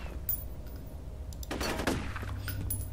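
Gunfire in the first-person shooter game F.E.A.R. breaks out as a short burst of rapid shots and a sharp report over low ambient game noise, fairly quiet.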